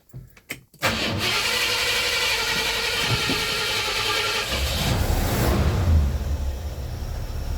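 A Ford Galaxie engine cranks with a few short bursts, then catches and settles into a steady, loud running idle close by, revving slightly richer toward the end.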